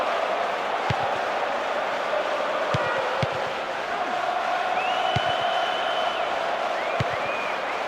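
A stadium crowd in the PS2 football game PES 2008 keeps up a steady, loud roar of cheering and chanting all the way through, with a few faint whistles and thuds rising above the din.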